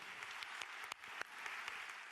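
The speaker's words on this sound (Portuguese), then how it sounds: "um aplauso para eles" A church congregation applauds in a brief, fairly faint burst of steady clapping with a few sharper individual claps standing out, heard from a distance.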